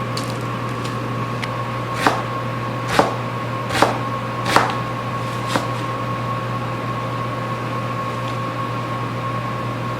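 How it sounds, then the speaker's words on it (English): Knife chopping an onion on a cutting board: five or six spaced, soft taps under a steady hum from a kitchen appliance, no talking. "I'll cut up the other half of the onion."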